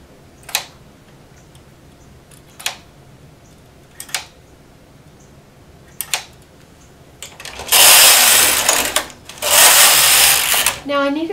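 A domestic knitting machine clicks a few times as stitches are set, then its carriage is pushed across the needle bed in a loud rushing, rattling sweep that lasts a few seconds, stops, then sweeps again.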